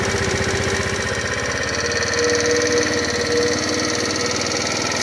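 A GY6 scooter engine idles steadily after starting, a close, continuous low putter with a fast even pulse and a metallic rattle on top, no talk over it.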